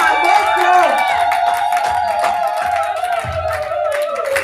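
A church congregation cheers and acclaims Jesus, a loud crowd of whoops and shouts with some clapping, mixed with music and voices close to the microphone.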